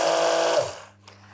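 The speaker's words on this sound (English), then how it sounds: "Then bring the stick blender to the middle" A stick blender pulses in pumpkin soap batter, one short loud whirring burst that cuts off and fades to quiet near the end.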